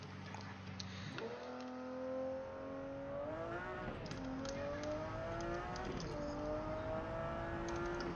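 McLaren F1 mod with a 600-horsepower engine in the BeamNG driving game, revving hard and climbing through several gear shifts, with a steady rising engine whine and brief dips between gears.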